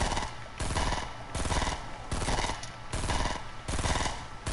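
Rapid repeated gunfire in a Fortnite match plays as a loud rhythmic burst of shots in evenly spaced pulses, dense and sustained with no talk.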